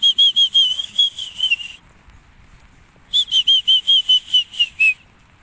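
A high whistle sounds in two bursts of rapid, evenly spaced short blasts separated by a quiet gap, close and clear, in a rainy-day setting where grain is put out for pigeons and chickens.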